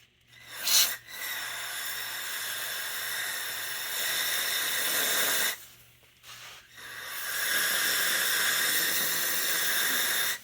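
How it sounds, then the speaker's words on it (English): Inverted duster can spraying propellant onto a motorcycle exhaust valve guide to freeze it, in three hissing bursts: a brief first one, then two long steady sprays separated by short pauses. "flip this duster can upside down and use the propellant to freeze the valve guide"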